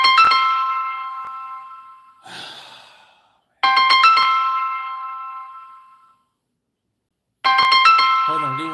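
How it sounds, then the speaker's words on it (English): A phone ringtone plays in loud, bright melodic bursts, three separate rings with silent gaps between them, plus a brief noisy sound in the first gap. "My phone is ringing."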